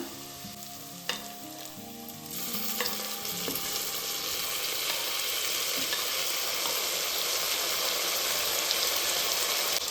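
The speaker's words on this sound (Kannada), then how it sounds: "ಈರುಳ್ಳಿ ಸಾಫ್ಟ್ ಆಗೋವರೆಗೂ ಒಂದು ಮೂರು ನಿಮಿಷ ಚೆನ್ನಾಗಿ ಈ ಥರ ಬೇಯಿಸ್ಕೊಳ್ಳೋಣ" Sliced onions and green chillies frying in a pan for egg biryani, a dense, steady sizzle that swells louder after a couple of seconds, with faint stirring clatter and no voices.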